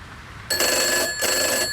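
Telephone bell ringing indoors in two loud, close bursts, each just under a second long with a short gap between, with no talk.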